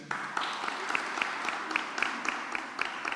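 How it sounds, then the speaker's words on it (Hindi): Church congregation at a Friday fellowship meeting applauding, a soft steady patter of many hands clapping with a few sharper claps standing out, moderately distant and even throughout. "ज़ोरदार तालियां इसके लिए बजाएं"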